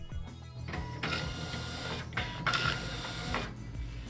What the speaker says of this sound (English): Confirm file transfer by printing.